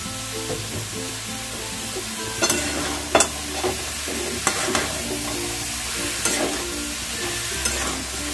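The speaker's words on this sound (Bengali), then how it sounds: "প্রথমে কিছুটা লাউ দিয়ে আমি একটু মিশিয়ে সব কিছু ওলট পালট করে নেব।" Bottle gourd and shrimp are stir-fried in a pan over a steady sizzle, with a spatula tossing and scraping the pan in a few distinct, close strokes.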